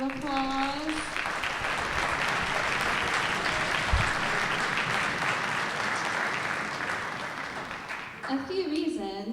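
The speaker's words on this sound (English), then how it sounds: "You guys can give yourselves a round of applause." Sustained applause fills a school winter concert hall as the audience claps for 7th, 8th and 9th grade student performers, steady and dense, with talk at the start and end.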